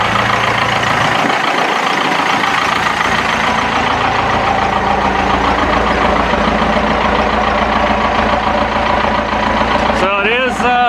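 A 4BT Cummins diesel in a 1980 Chevy K10 pickup idles after a cold start on a snowy day, giving a loud, steady clattering rumble. A voice talks over it near the end.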